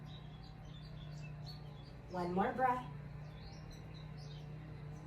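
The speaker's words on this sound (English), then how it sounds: "The birds are cheering you on." Birds chirp outdoors during a yoga class, a short burst of high twittering calls standing out for about a second over a steady low hum while an instructor speaks.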